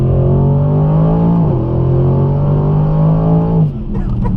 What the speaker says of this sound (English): there's only one thing left to do, and that is launch control